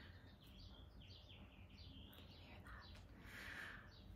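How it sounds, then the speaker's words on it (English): Birdsong outdoors on a sunny, breezy day: repeated chirps and short whistled phrases come from several directions at moderate distance over a steady low background hum. "The birds are singing."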